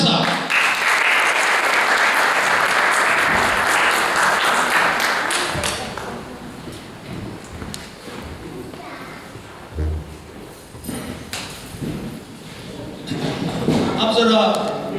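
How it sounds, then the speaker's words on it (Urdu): An audience at a formal Urdu literary gathering breaks into loud, sustained applause that fades after about six seconds, followed by scattered claps, taps and thumps. "آپ کی پرزور تالیوں میں تشریف لاتے ہیں جناب محترم عقیل دانش صاحب۔"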